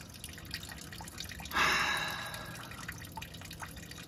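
Old fuel drains from a clogged drain on a 1957 Chevy wagon, a faint trickle at first that swells into a brief steady pour, then tapers off into soft drips in a quiet space.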